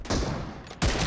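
Two sharp, loud gunshots from an M24 sniper rifle in the mobile game BGMI, in a team deathmatch match, about three quarters of a second apart, each a broadband blast with a lingering tail.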